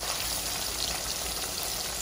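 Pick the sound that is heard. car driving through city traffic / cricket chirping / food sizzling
food sizzling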